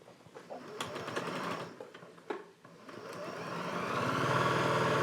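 A new Janome 6700P sewing machine stitches fabric, its fast, steady mechanical whirring building in speed and loudness, with light clicks near the start and no talking.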